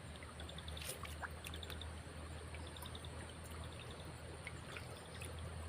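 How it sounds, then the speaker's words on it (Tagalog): Steady rushing water from a strong spring flowing into a river, with a constant wash and faint trickling detail, no voices. "Napakalinaw ng tubig at napakalakas ng bukal."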